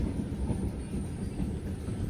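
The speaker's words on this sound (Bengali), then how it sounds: "আমাদের ট্রেন এসে পৌঁছালো পরবর্তী স্টেশন বৃন্দাবনপুরে" Low, steady rumble of a passenger train rolling into Brindabanpur station on the Masagram–Bankura line, continuous and fairly quiet, with no voices.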